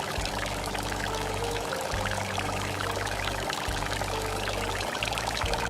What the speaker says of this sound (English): Pouring the water now.